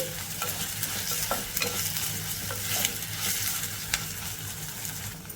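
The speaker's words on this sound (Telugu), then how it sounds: "ఒక రెండు నిమిషాలు ఫ్రై చేసేసుకుంటే సరిపోతుంది" Onion pieces fry in hot oil in a pan with a soft, continuous sizzle, broken by frequent scraping stirs of a spatula. The sound is close but fairly quiet.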